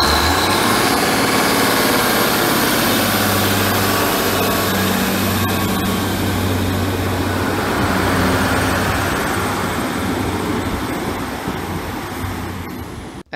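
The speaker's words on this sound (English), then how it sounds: "They also have an excellent engine thrash." A loud, rough diesel engine roar from a Northern Class 150/2 Sprinter train drones steadily for several seconds, with a low throbbing rumble that gradually eases toward the end.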